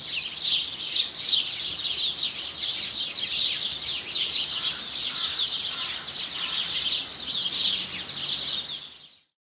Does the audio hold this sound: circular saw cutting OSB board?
no